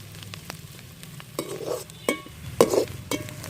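Curry leaves dropped into hot oil in a pan of frying onions for an avaraikkai (broad bean) egg poriyal, giving bursts of crackling sizzle with spoon scrapes and stirring knocks, close and moderately loud.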